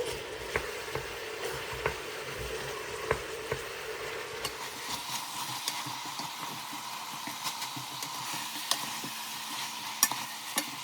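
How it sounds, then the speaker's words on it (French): Pieces of lamb and onions sizzle and fry steadily in a pan, with a constant close hiss broken by scattered scraping stirs and light clinks throughout. "On fait bien revenir les oignons avec la viande."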